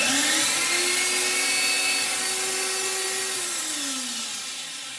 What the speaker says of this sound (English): Now I'll just sand this edge real good.